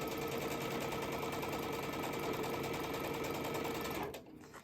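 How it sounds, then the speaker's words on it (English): A sewing machine chain-pieces small quilt fabric pieces without pins, its steady rapid whirring stitch running loud and close before stopping abruptly near the end. "so I'm going to sew without pins"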